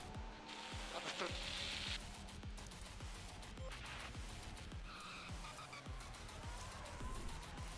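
Formula 1 cars from the F1 Manager 22 game roaring on the final lap, a continuous engine drone with tire squeals and passing whooshes, loud and steady, with a voice talking over it.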